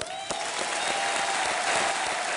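A studio audience at a Kaun Banega Crorepati style quiz-show comedy skit claps loudly and steadily, a dense wash of applause filling the whole moment with no talk over it.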